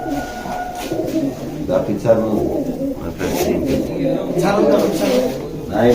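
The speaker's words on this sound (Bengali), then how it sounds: "এই যে দেখেন এই যে এখানে টুর্নামেন্টের সব কবুতর" Pigeons from a racing-pigeon tournament coo continuously in a loft, several birds overlapping in a steady low murmur, with someone talking nearby over them.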